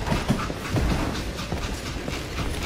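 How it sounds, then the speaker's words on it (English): A train runs steadily in the western video game Call of Juarez Gunslinger, with a continuous rumbling roll and rhythmic clacking and thumping throughout, fairly close and without speech. "It was then that Jesse detached the express car from the rest of the damn train."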